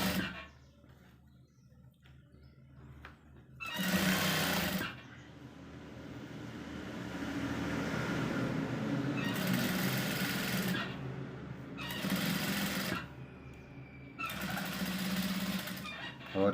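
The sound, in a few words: sewing machine stitching a kameez placket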